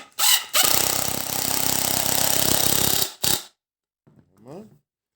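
A cordless screwdriver drives screws back into wood in a CNC woodworking workshop, with one long loud whirring burst and a short second burst near the mic, followed by quiet and a faint brief clatter.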